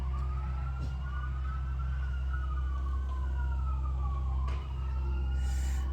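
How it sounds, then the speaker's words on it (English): Sirens from an ambulance, a fire truck and other emergency vehicles wail and sweep up and down in pitch as they pass, heard over a steady low truck engine rumble on a rural road, with a brief horn-like blast near the end. "That's an ambulance, another emergency vehicle, and then a first responder, and then a fire truck."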